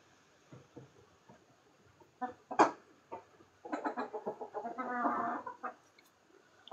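Chickens eating feed mixed with yeast cluck and squawk in short, irregular bursts nearby, growing busier midway, with quiet pecking between calls.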